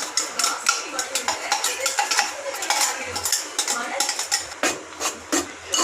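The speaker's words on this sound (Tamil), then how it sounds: "இது நல்லா பச்சை வாசனை போகிற வரைக்கும் நல்லா வதக்கிக்கணும்" Onion-tomato masala paste being sautéed in a pan for a radish and meat curry, with a spoon scraping and clinking against the metal in a quick, repeated stirring rhythm, close and fairly loud.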